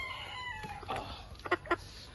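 A chicken clucks a few times in short, sharp bursts toward the end, over a quiet background with faint distant sounds.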